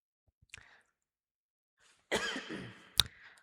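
A short cough, a pause, then a harsher, louder fit of coughing up close, ending in a sharp final cough.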